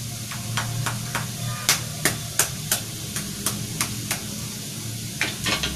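Vegetables sautéing in a pan for egg fried rice, a steady sizzle with a series of sharp spatula scrapes and taps against the pan at a regular pace, close and fairly loud.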